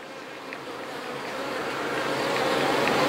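A steady, dense buzzing of many honeybees at a hive, swelling gradually louder over a few seconds with no voices.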